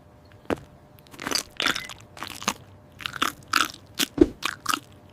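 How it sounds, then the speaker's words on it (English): Ice cubes are chewed and crunched up close, a run of sharp, loud bites and crunches at an uneven rhythm over about five seconds, with no talk. "a tendency to chew on ice cubes"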